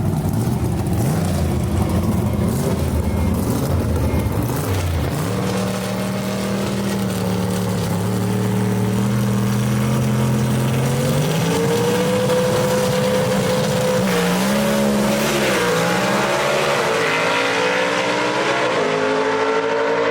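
Gasser drag race cars in the B/Gas class at Kil-Kare Dragway run down the strip, loud engines roaring continuously, with pitch climbing through the gears as the cars accelerate away.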